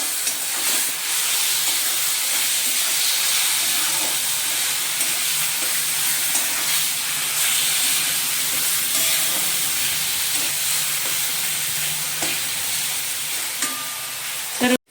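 Mashed eggplant bharit with onion, red chili powder and salt, sizzling loudly in a pan while it is stirred, a steady hiss with occasional spoon scrapes, close and continuous.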